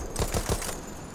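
A short, rapid burst of automatic gunfire fired at aircraft in the video game Battlefield, three or four quick cracks over steady background noise.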